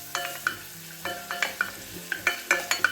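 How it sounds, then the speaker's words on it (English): Finely chopped shallot sweating in a hot pan for a ribeye steak sauce, giving a steady soft sizzle with repeated stirring scrapes and clinks of a utensil against the pan, close and without talk. "I've got one small shallot which I've just finely chopped, just in with that. I'm just going to sweat this down."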